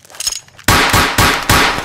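Gunshots in a video game, three sharp loud bangs in quick succession, each with a brief ringing tail, following a moment of quieter background sound.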